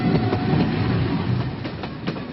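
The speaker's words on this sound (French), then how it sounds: "Soudain, une autre rame surgit." An RER commuter train approaches along the tracks, a loud, steady rumble with rhythmic rail clatter filling the whole stretch, with no voices.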